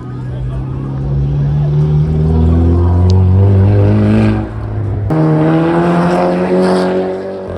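A lowered Honda station wagon with an expensive aftermarket exhaust revs loudly up close at a gathering spot with music, its deep droning engine note swelling and falling in sustained pulls while people talk nearby.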